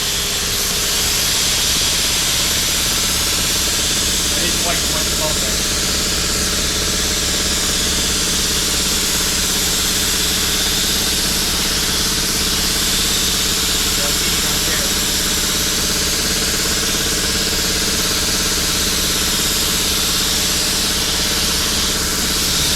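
A spray gun lays primer on the rocker panels of a 1969 Dodge Charger R/T 440 under restoration, giving a steady, unbroken hiss for over twenty seconds with a low mechanical hum beneath it.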